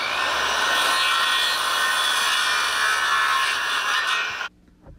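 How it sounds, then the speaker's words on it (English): Saw cutting the corner off a wooden board for a chicken coop, a continuous loud grinding rasp that runs steadily for about four and a half seconds before stopping abruptly. "We're going to trim this corner off on this line on all 12 of these boards."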